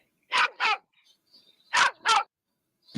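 A dog on a Spanish street barks in two sharp double bursts, loud and close, with quiet pauses between the pairs.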